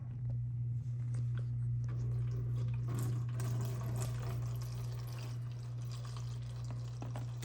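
Liquid splashes and trickles in uneven bursts during a diecast model car rebuild, close by, over a low steady hum, with scattered drips and small clatters.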